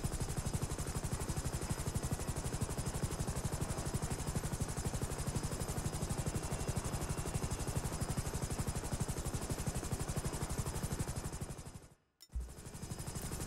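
Helicopter in GTA 5 on a police helicopter patrol, a steady loud rotor chop and engine drone running continuously without voices, then cutting off abruptly near the end.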